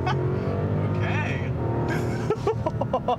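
A heavy 2021 Rolls-Royce Ghost launches hard from a brake-torque start, its engine roaring loud and steady close up before tire noise and a voice break in near the end.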